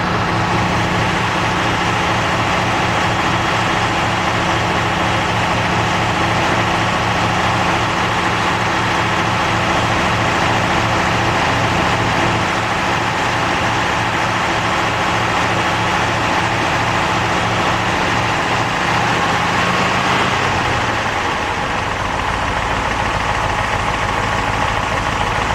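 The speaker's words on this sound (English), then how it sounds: "there's a normal warm idle speed of about 800 RPM" A car engine idles with a steady, loud mechanical hum, then drops off the fast idle cam near the end and settles toward a lower warm idle of about 800 RPM, with no voices.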